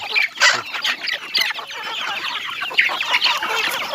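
Several chickens cluck and chatter continuously nearby, with overlapping calls and squawks forming a busy farmyard chorus.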